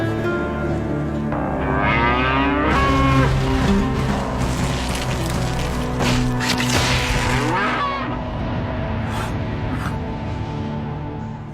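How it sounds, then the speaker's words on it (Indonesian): Two cattle run in opposite directions in an anime execution scene, pulling against ropes tied to a prisoner's legs; loud bellowing moos rise over heavy rumbling, crashing and a dramatic musical score that swells and then fades. "kaki Gabimaru diikat di kedua sapi yang lari berlawanan arah"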